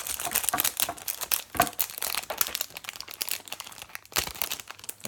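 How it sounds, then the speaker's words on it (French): Rare Yu-Gi-Oh card booster packs being torn open, with loud close crinkling and crackling of foil wrappers in irregular bursts and no talking. "vu que c'est des paquets rares, Faut en prendre soin. c'est plus dur à ouvrir en plus."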